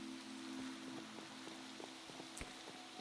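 Rain falling in Minecraft, a faint, steady hiss with soft scattered drop ticks and a quiet underlying hum, gentle and even throughout, with no talking.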